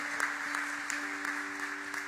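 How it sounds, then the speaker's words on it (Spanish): During a Sunday church service, a congregation applauds steadily in a continuous wash of clapping with a faint tone held underneath. "Den ese aplauso aún más fuerte"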